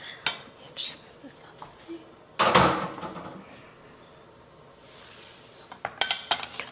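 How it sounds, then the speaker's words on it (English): A rubber spatula pressing food through a sieve into a bowl, with scraping, clinks of metal mesh against the bowl and scattered kitchen clatter, close and moderately loud. "I'm just going to press this through the sieve so that we don't get any of those seeds"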